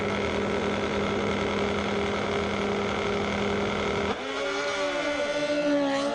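Two Kawasaki no-bar drag racing motorcycles drone steadily at a drag strip, a loud sustained engine tone that breaks near the end into rising, shifting pitch as they pull away.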